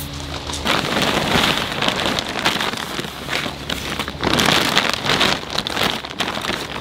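Potting soil pours and rustles into a container being planted with bulbs, a dense, continuous gritty patter that swells and eases for several seconds, close up with no voices.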